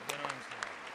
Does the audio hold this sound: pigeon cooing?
no